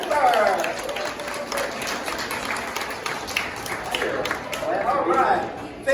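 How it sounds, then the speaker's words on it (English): Audience applauding a guest on stage at a science stage show, a broad wash of clapping from a crowd, fairly close and sustained, with voices mixed in. "Let's give him a big round of applause."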